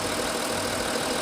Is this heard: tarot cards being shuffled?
no